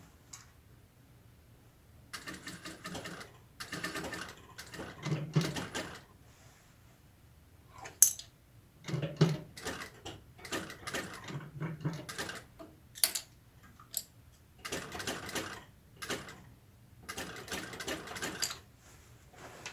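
A sewing machine stitches the sleeve of a woman's stretch-fabric jacket in short rattling bursts separated by pauses, close by and alone.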